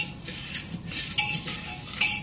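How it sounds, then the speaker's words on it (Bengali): A metal spoon scrapes and clinks against a pan while chana dal fries in ghee, giving a few irregular stirring strokes close up, with no voices. "তাই এটা হালকা নেড়ে চেড়ে নেব"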